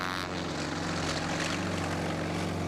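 A Su-26 single-seat aerobatic propeller plane roars past at an air show, its engine drone loud and steady with a harsh rising whine throughout.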